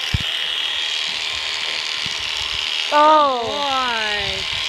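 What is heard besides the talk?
electric clippers shearing an alpaca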